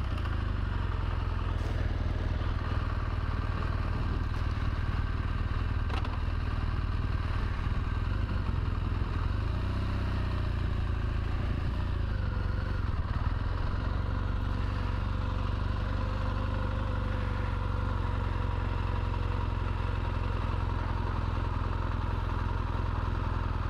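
A BMW 1200 GSA motorcycle ridden slowly around a parking lot, its engine a steady, close, loud drone with a low rumble throughout and no talk.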